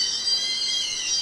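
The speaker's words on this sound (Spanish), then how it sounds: "Estos son sonidos electrónicos." An electronic bird-repellent deterrent device, used against pigeons and other pest birds, gives off a steady, bright synthetic tone that holds without a break for over a second, fairly loud and with no talk over it.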